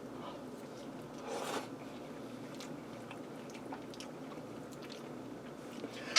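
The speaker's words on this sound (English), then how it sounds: "Taste some of these ramen noodles." Someone chews a mouthful of beef ramen stir fry noodles with crisp vegetables, soft close squishy chewing and biting over quiet room hiss.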